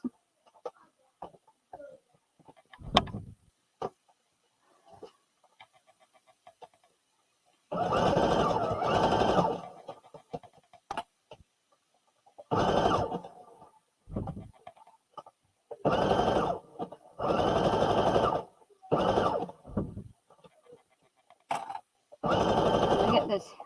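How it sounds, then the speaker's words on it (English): A home sewing machine stitches a hood onto a garment sewn from Simplicity pattern S9456. It runs in several loud, close bursts of rapid whirring, separated by quiet pauses with small clicks and handling noises. "Get this hood sewn on."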